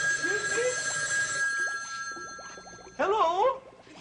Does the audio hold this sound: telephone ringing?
yes